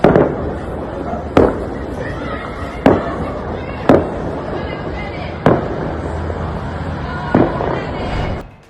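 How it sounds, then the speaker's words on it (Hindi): Firecrackers set off across Palestine, about six sharp, loud bangs at irregular intervals over a constant noisy background, with voices talking underneath. "जगह जगह फिलिस्तीन में पटाखे भी फोड़े जा रहे हैं।"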